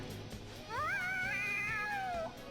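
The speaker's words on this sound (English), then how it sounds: "those are cat noises" Morgana the cat from Persona 5 lets out a single drawn-out, rising and falling meow, clear and moderately loud over a low game background hum.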